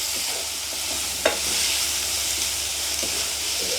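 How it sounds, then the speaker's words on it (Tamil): Large onions frying in a pan with oil in a village kitchen, a steady soft sizzle and hiss with an occasional light clink of a stirring spoon; moderately quiet and continuous, with no talk. "அதனால் வந்து வெங்காயம் வந்து நல்லா பொரியட்டும்"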